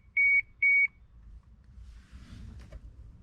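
Two short, bright electronic beeps from a Mk3 Toyota Supra as the ignition is switched on, then quiet rustling and faint handling noise.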